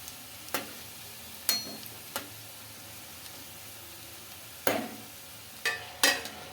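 Poha patties sizzle steadily in hot oil in a pan while a spatula flips them, with several sharp scraping clicks spaced irregularly over a soft, continuous frying hiss.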